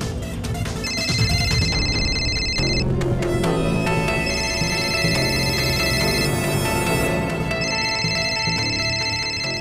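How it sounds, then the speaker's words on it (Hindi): A telephone ringing with a boss's call in a Hindi crime drama scene, electronic ring bursts repeating in regular pulses over loud background music, with no talk during the rings. "बॉस का फोन है।"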